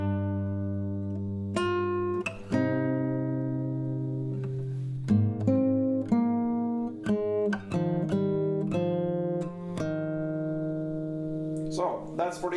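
Acoustic guitar picks out a song intro, clear plucked chords and single notes ringing in a steady, unhurried rhythm, up close and alone with no talking over it.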